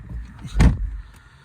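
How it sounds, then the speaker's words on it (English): A 2013 Mercedes A200 Sport car door closes with one close, firm thump, with a little handling noise before and after the shut. "Shut that door."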